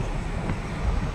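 Wind blowing outdoors in the Tanay highlands of Rizal in the early morning, a steady rough rush with low buffeting gusts against the microphone, loud and continuous with no talking.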